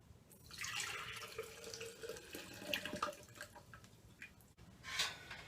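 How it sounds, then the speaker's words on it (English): Melted chocolate and water poured into a chocolate pot for 18th-century Californian drinking chocolate, a steady close liquid trickle and splash with a few drips, no talking. "I'm ready to pour it into the chocolate pot and whisk it with the molinillo"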